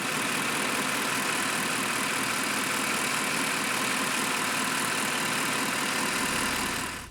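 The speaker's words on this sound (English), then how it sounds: "it's the smoothest running M156 I've ever heard." A Mercedes CLS63 AMG with its low-mileage M156 V8 idles smoothly and steadily up close, a constant even rumble with no revs that drops off abruptly at the end.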